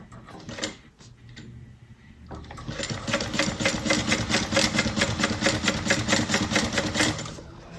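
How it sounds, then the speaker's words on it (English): A sewing machine top stitches a bag, running in a steady rapid stitching rhythm for several seconds after a brief pause and a few short bursts, close and fairly loud. "let's get to top stitching"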